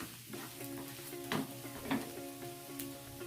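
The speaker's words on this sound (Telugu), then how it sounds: "ఇది బాగా కలుపుకోవాలి." Chili powder, coriander powder and garam masala are mixed into a potato fry in a pan, heard as a quiet sizzle broken by a couple of brief spoon scrapes.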